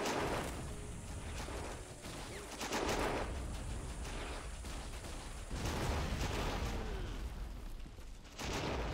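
Rapid machine gun bursts and scattered rifle fire crackle across a First World War battlefield in Battle of Empires 1914-1918, coming in loud waves with brief lulls between them.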